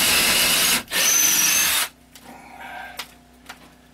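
Power drill boring into a wooden wall stud of a tiny house, a loud close whine for about two seconds with a brief dip, then stopping, followed by faint handling clicks.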